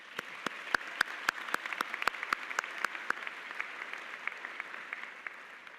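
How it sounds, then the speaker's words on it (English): Graduates applaud at a law school commencement ceremony, scattered claps at first with several sharp, distinct hand claps standing out, settling into a softer, steady applause from a large gathering. "Go ahead and give yourselves another round of applause"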